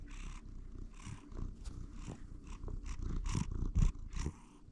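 A large, heavy domestic cat purrs close up in a steady, rumbling rhythm with a few louder bursts near the end, and no one speaks.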